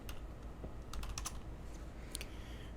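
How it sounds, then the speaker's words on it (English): Faint, quick keystrokes on a computer keyboard tap out a short word in a few light clicks over a quiet room background. "I'm gonna type in cylinder,"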